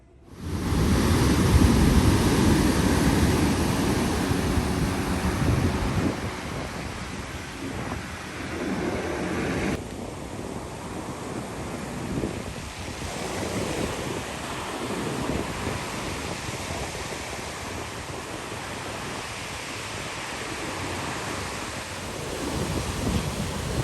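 Ocean waves off a hotel terrace on Tenerife in the Canary Islands, a broad rushing wash swelling loudly at first then settling into a steady, softer surf roar with wind noise.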